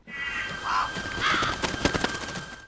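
A CG crow in a film caws twice at moderate distance, harsh and throaty, followed by a flurry of fainter clicks and scratchy rustling noises.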